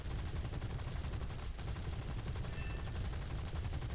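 Aircraft machine guns fire in the air-combat video game War Thunder, making a dense, continuous rattle of rapid shots that stays loud and nearly unbroken, with a brief pause partway through.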